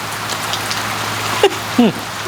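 Steady rain pattering on surfaces outdoors during a meal, a continuous soft hiss throughout, broken near the end by two brief louder sounds.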